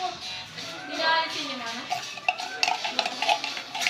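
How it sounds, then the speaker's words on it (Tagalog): Spoon stirring gulaman jelly and watermelon together in a bowl, with repeated light clinks and scraping against the container over several seconds, moderately close. "Dapat natin paghaluin ang gulaman and watermelon."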